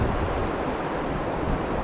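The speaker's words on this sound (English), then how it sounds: "that river is still just flowing high, hard, fast, and cold" The Yuba River in California runs high, hard, fast and cold, a constant, dense roar of rushing water with no pauses and no voices.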